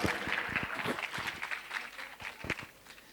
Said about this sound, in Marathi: टाळ्यांचा आवाज जरा आला ना मग समजेल